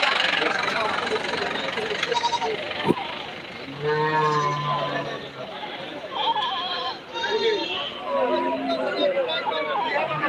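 A vehicle loaded with cattle idles with a steady engine rumble at a village livestock market, while goats bleat and people chatter nearby.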